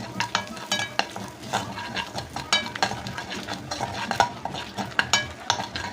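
Spices stirred into curry leaves in a pan for a traditional Onam dish, with scraping spoon strokes and soft frying sizzle, close and steady with irregular clatters, no talk.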